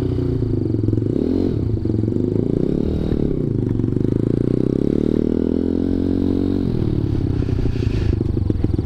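A small 190cc Zongshen engine on a Honda Grom clone motorcycle runs steadily and loudly up close, idling high, its pitch rising and falling with a few revs, with some rattling clatter.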